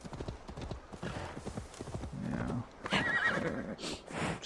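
A horse in Assassin's Creed Valhalla clip-clops along and gives a loud whinny, the hoofbeats close and rhythmic, while someone briefly speaks over the game sounds.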